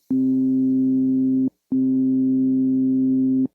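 A Groove Synthesis 3rd Wave synthesizer routed through a Fractal FM9 effects loop plays two long sustained tones of the same pitch, each about a second and a half, separated by a short gap, loud and clean.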